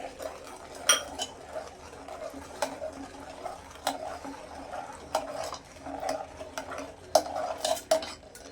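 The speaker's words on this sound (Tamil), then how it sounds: "அடுத்தது சர்க்கரையை போட்டு மிக்ஸ் பண்ணணும்." A spoon stirs sugar into a milk mixture in a kitchen pot, giving soft scraping swirls punctuated by a string of light clinks and taps against the vessel, close and moderately quiet, with no talking.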